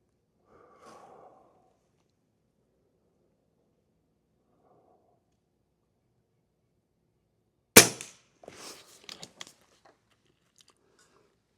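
One sharp report from an Avenge X air rifle firing a pellet at a target, loud and sudden, followed by brief clatter and faint rustling, with quiet handling noises earlier and no talk.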